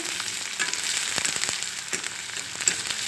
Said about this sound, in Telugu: ఉల్లిగడ్డ ముక్కలు మగ్గిపోతున్నాయి